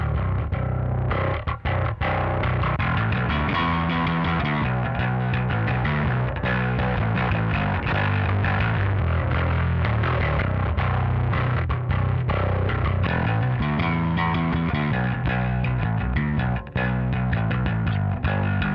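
A heavily distorted bass guitar plays a gritty, buzzing riff through a Mosky Third Space bass amp, continuous and loud with a thick, saturated tone.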